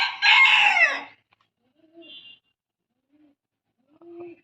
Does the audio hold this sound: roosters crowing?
yes